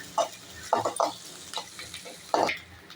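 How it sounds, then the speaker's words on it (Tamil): Onions frying in sesame oil with drumstick leaves, stirred in a pan, giving bursts of sizzling and scraping in short irregular strokes, fairly close and clear with no talk. "வெங்காயம் கொஞ்சம் வதங்கினோடனே நம்ம அலசி எடுத்து வச்சுருக்க கீரையை அதில் போட்டுடலாங்க"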